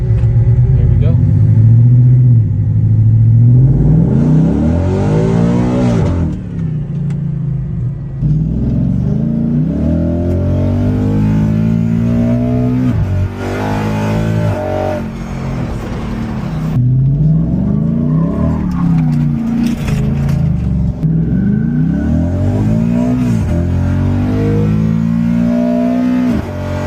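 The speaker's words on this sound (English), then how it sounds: "First time actually driving this with the Coyote swap." A Coyote V8-swapped SVT Expedition truck engine rumbles and revs while driving, with a steady loud drone and rising pitch sweeps as it accelerates, under talk.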